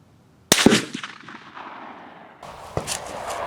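Single loud rifle shot at an outdoor shooting range firing Hornady 178 grain ELD-X ammunition, a sharp close blast with a rolling echo, then a fainter distant crack.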